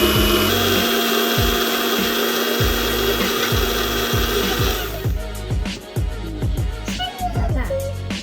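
Masala for meen kuzhambu (fish curry) being ground in a mixer grinder. A loud, continuous whirring motor with steady pulsing runs for about five seconds, then gives way to quieter rattling knocks and clatter.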